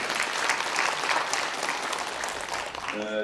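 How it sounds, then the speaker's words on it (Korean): Audience at a Korean integrity award ceremony and lecture claps steadily throughout, a full, even wash of applause filling the hall, with a brief tonal note creeping in at the very end. "박수 부탁드립니다."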